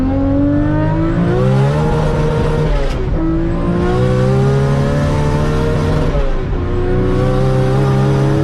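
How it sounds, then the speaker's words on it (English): A race car engine in the Gran Turismo 7 racing game, loud and up close, revving hard through rising gears with two quick drops between shifts, a continuous aggressive howl with no talk. "the car still sounded absolutely fantastic"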